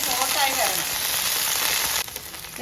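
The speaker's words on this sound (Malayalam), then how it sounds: "നമ്മുടെ എണ്ണ ചൂടായി വന്നിട്ടുണ്ട് ഇതിലേക്ക് നമ്മുടെ വെണ്ടയ്ക്ക അരിഞ്ഞു വെച്ചിരിക്കുന്നത് ചേർത്ത് കൊടുക്കും" Chopped okra hits hot oil for a Kerala-style masala curry, setting off a loud, close, continuous sizzle that eases slightly toward the end.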